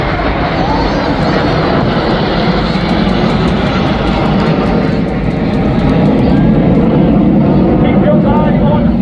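A steady, loud engine roar from an aircraft passing over the Southport airshow fills the air, broad and continuous, with crowd chatter and talking mixed underneath.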